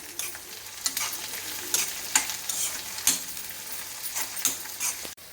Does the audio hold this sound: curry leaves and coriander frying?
yes